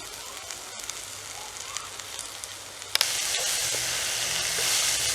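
Chopped palmyra leaves sauté in a village pan in Jaffna. A gentle crackling sizzle with a few stirring clicks jumps to a louder, fuller hiss as the greens go in.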